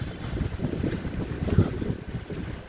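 Rough, stormy sea whipped by wind, a steady broadband roar of waves and gusts with heavy low rumble and wind buffeting the microphone throughout, no voices.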